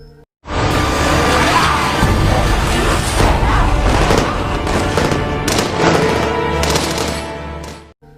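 Gunfire erupts in a zombie attack scene from The Walking Dead, a loud sustained barrage of overlapping shots and booms with sharper individual cracks toward the end before it cuts off.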